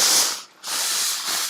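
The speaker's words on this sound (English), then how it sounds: "Lots of steam. This is my big fancy Laura Star iron" Steam hisses loudly from a Laura Star steam iron during fabric pressing for a zip pouch, a broad steady burst that drops out briefly near the middle and then resumes at full strength.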